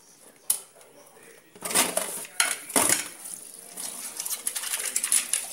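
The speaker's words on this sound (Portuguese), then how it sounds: "Tô aqui terminando de lavar a louça" Dishes and cutlery clink and clatter in a kitchen sink during washing up, with sharp metallic knocks and running-water hiss rising and falling at close range.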